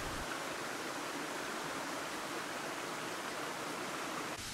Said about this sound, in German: Nach kurzer Wanderung erreichen wir zunächst einen kleinen Wasserfall